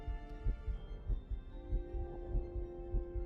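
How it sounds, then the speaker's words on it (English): A loud, steady heartbeat thumps in Star Trek: Voyager - Across the Unknown, a paired double-beat pulse repeating about every half second over a low hum, with no talking. "that heartbeat is very loud."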